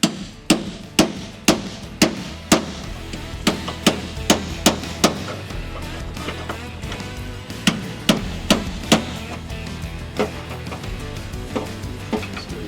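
Hammer blows on the sheet metal of a truck bed mount during a heavy-duty repair on a 2nd or 3rd gen Nissan Frontier, struck in a steady series of sharp, loud metallic taps with no talking.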